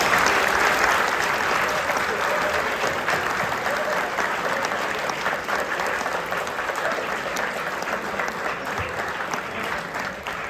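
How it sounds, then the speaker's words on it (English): A large panel audience at La Salle Academy gives a long, steady round of applause, dense and even throughout and slowly fading slightly toward the end, with no voices standing out. "Obviously we're going to give a big round of applause."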